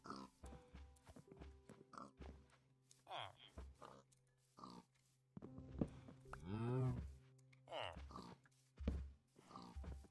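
Minecraft cows moo in low, drawn-out calls, several scattered through the scene, with a louder nearby moo midway, while a person talks over them.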